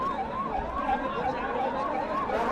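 An ambulance siren wails in a continuous rising-and-falling sweep, moderately loud against street noise, with no speech over it.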